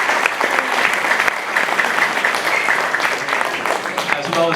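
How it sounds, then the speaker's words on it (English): Sustained, loud audience applause for jazz performers and their music teachers at a Manchester music education evening, dense clapping filling the room steadily from start to finish. "let's give a big round of applause to our performers and their dedicated teachers"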